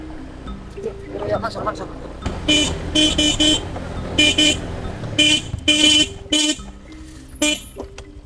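Car horns honk in short repeated bursts amid traffic noise, loud and nearby, with voices talking underneath.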